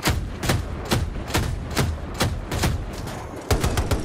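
Gunfire in the video game Battlefield 2042, a steady series of loud, close single shots spaced roughly half a second apart, each with a booming tail, with no talk.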